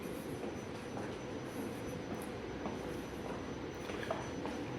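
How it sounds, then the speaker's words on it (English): A train pulls up at Paoli station with a steady rumbling roll of wheels and faint squeals, heard at a moderate distance as an even, continuous wash of rail noise. "There's another train there that just pulled up."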